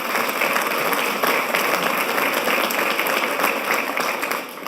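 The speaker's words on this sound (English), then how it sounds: "you can clap for that" Sustained applause from an audience at a town's annual State of the Town address, dense steady clapping filling the room for several seconds before tapering off slightly at the end.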